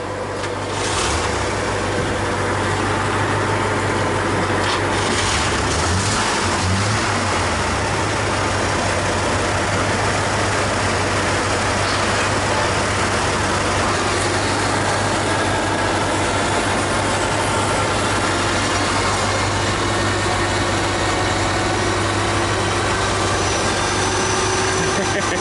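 KhTZ-17221 tractor engine turns over and settles into a steady, loud, continuous diesel idle that runs throughout.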